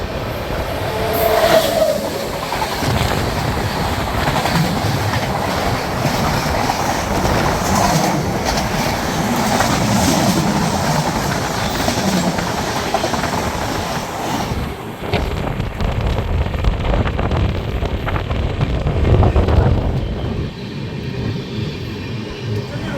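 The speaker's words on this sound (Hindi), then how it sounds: "सामने से आगे है train number 11077 Jhelum express Pune Jammu Tawi" A Rajdhani Express running between Delhi and Mumbai passes the Jhelum Express, a continuous loud rumble and clatter of wheels with heavy wind rush throughout.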